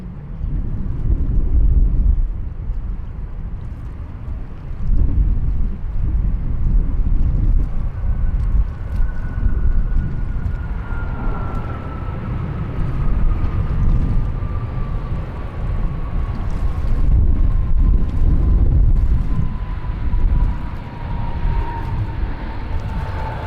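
An Airbus A320 on approach to Sydney Airport, arriving from Launceston, gives a steady jet roar over wind noise, with a slowly falling engine whine as it passes at a distance.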